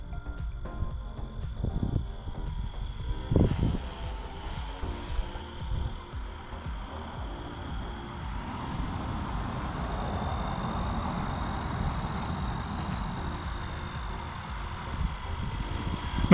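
A Blade 150fx RC helicopter flies on its maiden flight with a steady, whirring whine that holds and swells, preceded by a few sharp thumps. No one speaks.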